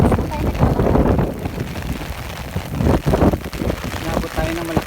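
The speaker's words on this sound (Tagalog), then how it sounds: "Nabot tayo ng malakas na ulan. It's raining in Oman." Heavy rain pours down in Nizwa, Oman, at night, with gusts of wind buffeting the microphone, and faint voices are heard beneath the downpour.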